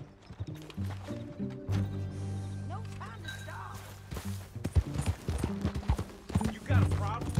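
Horse hooves clip-clopping in a steady rhythm while riding in the video game Red Dead Redemption 2, close and moderately loud beneath speaking voices and low music.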